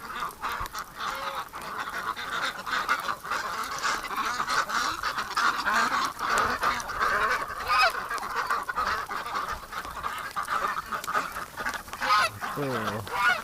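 A flock of farm ducks and geese out in deep winter snow honks and quacks continuously, a dense, busy chorus of overlapping calls at moderate distance with brief voices underneath.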